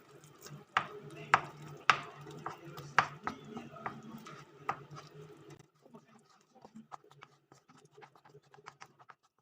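Spoon scraping and clinking in a pan while green curry paste is mixed, a run of sharp clacks and scrapes that thin out into lighter taps, with faint talk in the background.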